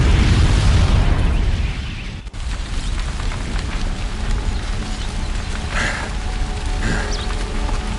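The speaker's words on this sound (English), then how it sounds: "the booby trap on the bomb downstairs is gonna get set off" A bomb blast set off by a booby trap in Horizon Zero Dawn, heard as a loud, continuous rumbling roar with crackling debris bursts that fills the whole stretch.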